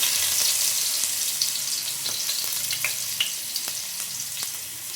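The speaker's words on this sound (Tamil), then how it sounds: "அதே எண்ணெயில் நான் இஞ்சி போட்டுக்கிறேன்." Ginger sizzles and fries in hot oil left in the pan after tomatoes, for Kerala-style fish curry; a steady, close crackling hiss with small pops throughout, no talking.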